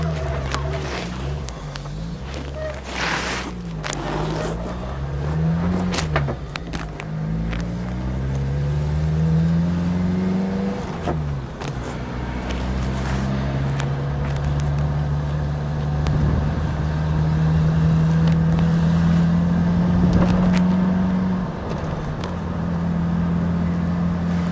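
An old Japanese-import Daihatsu 4WD, parked for six years, driving along with a loud close engine drone whose pitch rises and falls through the gear changes, steady throughout with wind noise over it.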